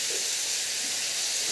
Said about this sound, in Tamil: நல்லா உப்பு போட்டு நல்லா வதக்கிடணும்